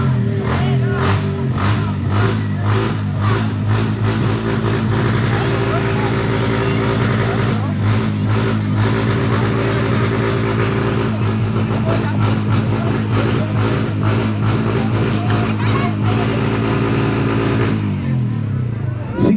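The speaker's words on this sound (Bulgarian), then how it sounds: "да чуем мотора Зелената стрела" A motorcycle called Green Arrow runs loud and close at a contest, its engine held at a steady rumble with repeated throttle blips, while a crowd and voices carry on over it and the engine cuts off near the end.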